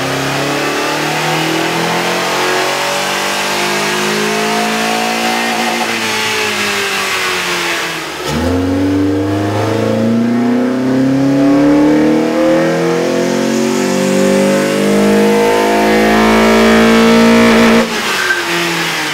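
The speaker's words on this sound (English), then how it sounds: "With the air intake installed, we ran the vehicle on the dyno to test the sound comparison versus the stock intake" Honda Accord 2.4-liter engine fitted with a K&N cold air intake, revving on a dyno: a loud, close engine note that climbs steadily in pitch through long pulls, drops back, then rises again.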